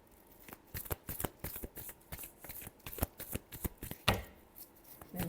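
Tarot cards being shuffled in a steady run of quick riffling flicks, close and fairly loud, with one sharper slap near the end.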